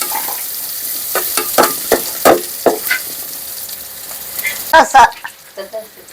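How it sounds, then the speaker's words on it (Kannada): Mutton fries in a pan with cashews and poppy seed powder for mutton sukka: close, intermittent sizzling with scraping stirs and a few sharper clatters. "ಇದೆಲ್ಲ ಫ್ರೈ ಮಾಡ್ಬಿಡಿ"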